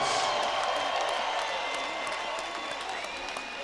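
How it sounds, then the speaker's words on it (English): Crowd applause and cheering at a bare knuckle boxing event for two welterweight fighters, a broad, steady wash of clapping that fills the hall and fades slightly toward the end. "let's have a round of applause for these two welterweight warriors"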